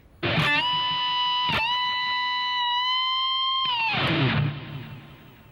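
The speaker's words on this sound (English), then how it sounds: "So the solo ends with a step and a half bend." A lone electric guitar holds sustained notes that bend upward in pitch, ending on a long, ringing bent note that fades out.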